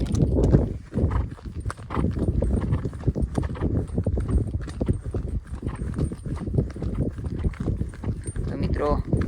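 A mare's hooves clip-clop steadily at a walk as she is driven along, with the person driving talking throughout.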